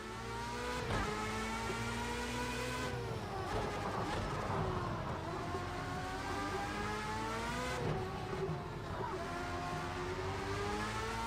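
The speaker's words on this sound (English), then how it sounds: "I think I might have braked a little too early." Race car engine screaming through the gears in the PC2 racing video game, a steady high whine rising and dropping as it slows and reaccelerates, loud and continuous with no talk.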